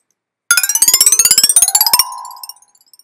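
A quick run of bright, metallic gong-like tones climbs as a scale played as MIDI output, each note struck in rapid succession, ending on a ringing note that fades out.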